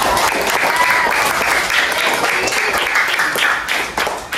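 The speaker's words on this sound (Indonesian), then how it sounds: "tepuk tangan dulu untuk mereka berdua" Loud, close applause from a class of sixth-grade students clapping for two classmates, a steady burst of many hands that tapers off near the end.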